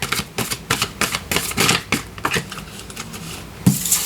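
Playing cards being drawn and slid from a deck during a card reading, a run of quick crisp flicks and snaps at close range, with a louder thump near the end and no talking.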